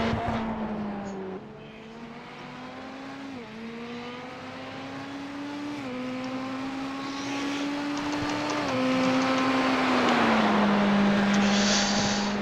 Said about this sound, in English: have a listen to the beautiful sounds of this Ferrari as he's out on a hot lap at the moment